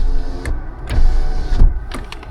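Power windows in a 2025 Suzuki Jimny 5-door GLX whir in several short motor bursts, close and fairly loud inside the cabin, with no voices.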